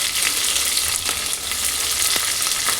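Chopped onion fries in a pan of oil for pulao, giving a loud, continuous close-up sizzle with a few light stirring scrapes and no talking.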